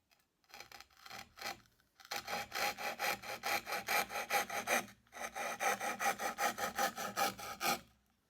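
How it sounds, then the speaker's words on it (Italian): A small Parkside Japanese kataba pull saw cuts through plywood in steady rasping back-and-forth strokes, close up and fairly loud, with a pause before a second quicker run of strokes, and no voices. "facciamo questa prova cominciando a fare un taglio su questo pezzo di compensato"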